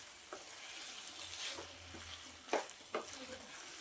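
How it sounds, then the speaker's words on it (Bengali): Cabbage curry being stirred in a pan just after a spoonful of ghee is added, with a low sizzle under soft scraping strokes and a couple of sharper utensil knocks near the end. "আবার আমি সব কিছু নেড়ে চেড়ে ভালোভাবে মিশিয়ে নেব।"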